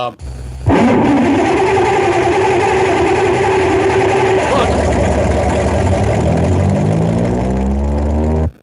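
Car engine sound effect: an abrupt loud start that settles into a steady droning idle for several seconds, followed by a rising rev, with voices talking over it.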